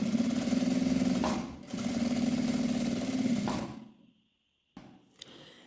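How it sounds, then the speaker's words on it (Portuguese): Sewing machine running steadily while topstitching fabric for an accordion-style purse, two sustained bursts of close, loud motor whir separated by a short pause, then quiet with a few faint handling sounds. "aqui eu vou passar uma costurinha rebatendo"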